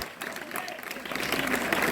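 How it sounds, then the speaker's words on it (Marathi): Children clap together at a live magic show with fire tricks, a dense, steady patter of many small hands that swells slightly toward the end, with voices murmuring underneath. "पोरं लगेच टाळ्या वाजवतात"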